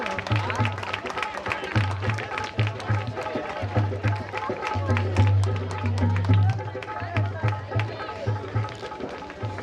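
Audience at a theatre festival felicitation in India claps steadily and continuously, a dense crowd applause with low rumbling noise underneath and no voices standing out.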